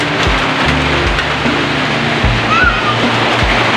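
A heavy rain shower pours down in a steady, loud, unbroken rush of water, close by and filling the whole scene, with a few low thumps underneath.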